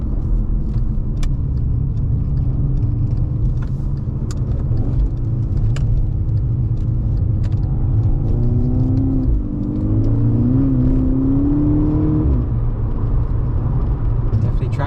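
A 2012 Volkswagen GTI Mk6 accelerating hard through the gears with wheel spin, a steady engine drone rising in pitch, dipping at a shift and climbing again, heard from inside the car with someone talking over it.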